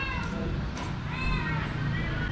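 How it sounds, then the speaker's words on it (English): A cat meows repeatedly in a kitchen near Lake Toba, Indonesia, while rendang is being cooked. The high, drawn-out meows repeat several times over a steady, noisy background. "Oh, this cat is super annoying."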